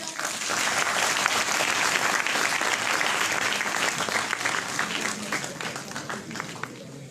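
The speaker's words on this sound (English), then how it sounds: "A big round of applause for our" A university audience at Raffles University applauds during a felicitation ceremony, a dense, loud burst of clapping that holds steady for several seconds before tapering slightly, with no speech over it.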